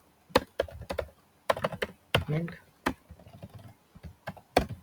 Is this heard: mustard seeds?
no